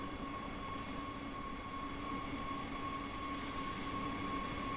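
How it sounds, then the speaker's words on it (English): A train pulls into a station in the Train Sim World 2 rapid transit game, a steady low rumble with a faint tonal hum and a brief hiss partway through, heard alone. "Got a train arriving."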